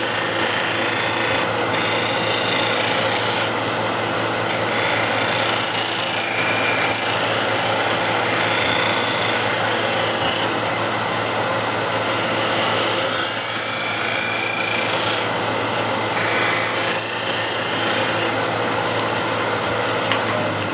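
A steel card scraper shaving wood grain on a turned piece, continuous gritty scraping strokes with brief pauses and repeated bursts of brighter hiss, close and fairly loud.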